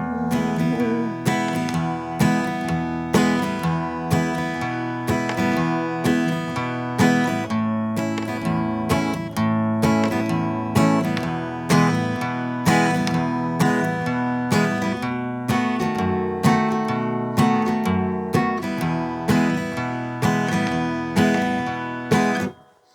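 An acoustic guitar strums the chords of the musical interlude from a song in a steady rhythm, each strum a crisp, even attack. It is played solo and close for about twenty seconds.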